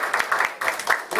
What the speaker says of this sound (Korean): 우리 환영의 박수